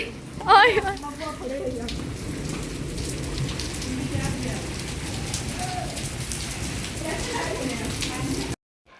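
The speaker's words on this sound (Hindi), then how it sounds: "बारिश देखें जी एकदम कितनी शुरू हो गई है।" Heavy monsoon rain pours down steadily in a Pakistani village, drumming hard on surfaces, with a brief voice near the start before the sound abruptly cuts off.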